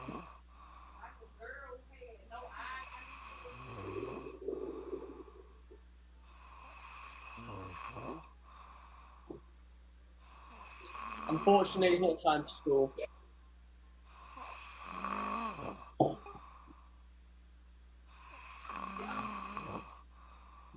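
A sleeping person snores in slow, regular cycles of raspy breaths with quiet gaps between, heard under steady background hum while people talk over some of it.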